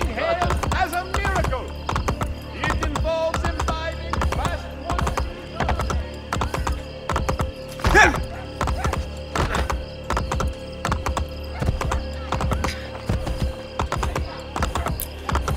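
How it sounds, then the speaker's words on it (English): In Assassin's Creed Brotherhood, a summoned horse whinnies near the start, then hooves clop in a steady galloping rhythm throughout with thudding impacts, loud and close, while someone talks over it. "Just call for my trusty horse."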